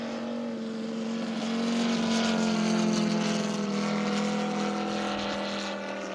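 A 5-cylinder radial engine on a 20 kg RC warbird plane drones steadily with a strong low hum, swelling slightly louder in the middle before easing back.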